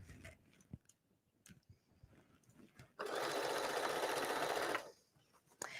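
A sewing machine stitches denim jeans with blue thread, a steady loud mechanical run of about two seconds that starts abruptly and stops, with quieter handling taps before and after.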